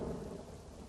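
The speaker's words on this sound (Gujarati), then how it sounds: "ભારે ગરમી અને બફારા બાદ વરસાદનું આગમન થયું" Thunder rumbles under steady rain in the Vagad area after a spell of intense heat and humidity, a brief low roll with a constant wash of rainfall and no voices.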